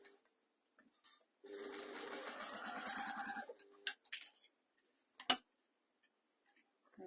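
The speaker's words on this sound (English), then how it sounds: "all I'm doing is stitching through all those layers right on the very edge" A sewing machine stitches through quilt layers right at the edge, with a close, rapid mechanical run lasting about two seconds. Brief taps and clicks follow against otherwise quiet surroundings, and there is no talking.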